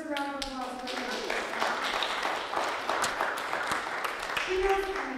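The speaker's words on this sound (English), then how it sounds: "That just deserves a round of applause for you." Audience at a talk by a solutions journalist and Pulitzer-winning author breaks into applause right after a voice, clapping in a dense, steady wash for about five seconds.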